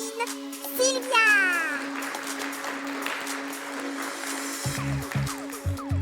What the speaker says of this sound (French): Et applaudissez notre beauté latine, Sylvia!